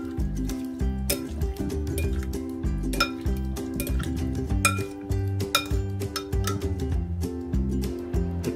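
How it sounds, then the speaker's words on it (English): A spoon stirring avocado corn salad with coriander leaves in a bowl, a steady run of close clinks and scrapes against the dish, with a quiet melody playing underneath. "So i-mix lang po natin siya hanggat mag-blend ang ating mga ingredients."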